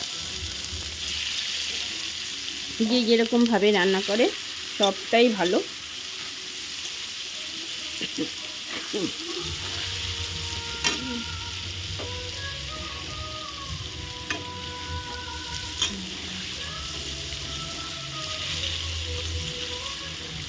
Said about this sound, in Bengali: এখন আস্তে আস্তে আমি পনিরগুলো দিয়ে দেব পনিরগুলো দিয়ে ভেজে নেব